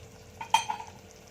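Potatoes frying with spices in a pan, a soft sizzle with a sharp spoon clink and stirring scrape near the middle, short and fairly quiet.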